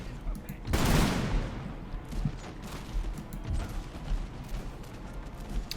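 Musket volley fire in the strategy game Empire: Total War, a burst of massed gunfire cracking out at once, then scattered distant shots and battle clatter continuing underneath.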